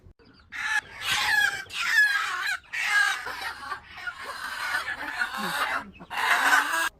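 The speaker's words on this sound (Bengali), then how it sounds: "এখন সকালবেলা ভাই আর ভাবি বাড়ির পোষা মুরগিগুলো ধরে নিচ্ছে" Household pet chickens squawk and cluck in loud, agitated bursts as they are caught in the morning, the calls coming close and repeating through most of the seven seconds.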